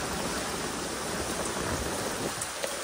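Steady, dense rainfall hisses continuously, a heavy downpour drumming on surfaces beside a flooding river, with no voices.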